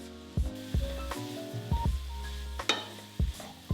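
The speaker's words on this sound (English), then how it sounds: "I'm going in with my sauce, and I'm also adding my vegetables. And you just wanna stir fry all the vegetables." Vegetables and sauce stir-frying in a pan for a vegan meal, a steady sizzle broken by repeated sharp clacks of stirring against the pan, with a tonal background running underneath.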